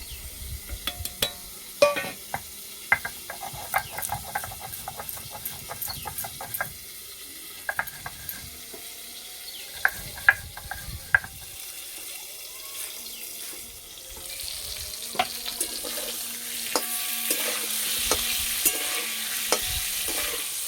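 Pointed gourd (potol) frying in oil in a pan in a village kitchen, with repeated clinks of a spatula stirring through steady sizzle, the scraping growing sparser and a broader hiss rising toward the end.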